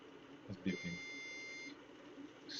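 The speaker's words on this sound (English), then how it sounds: "It's beeping." Thin electronic beeping from FPV drone equipment, a steady high tone lasting over a second amid faint background voices and handling noise.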